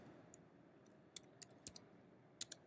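Computer keyboard typing while entering text into a specimen database, a sparse run of faint, crisp key clicks in small irregular bursts over a quiet room background.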